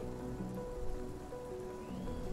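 Toxic rain falling across the surface in the video game Surviving Mars, a steady hiss of drops with tonal game music droning underneath, continuous and fairly loud throughout without any talk.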